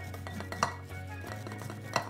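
A knife scrapes corn kernels off the cob into two bowls in a timed kitchen race, giving a steady run of faint scraping with two sharper clinks of metal against a bowl, all close by and without talk.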